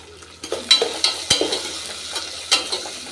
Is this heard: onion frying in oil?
yes